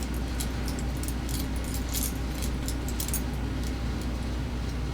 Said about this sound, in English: Put your fucking keys away!